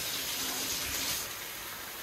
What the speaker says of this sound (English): maybe just have a little scoop of water